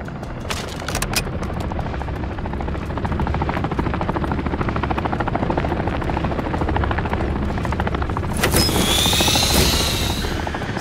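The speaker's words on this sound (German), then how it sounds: "Heli ist verdammt hartnäckig." A helicopter in the Call of Duty Modern Warfare III video game thrums with steady, loud rotor chop throughout, joined near the end by a higher whining engine sweep.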